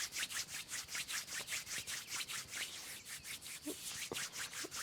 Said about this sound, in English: rub them together, create a warm friction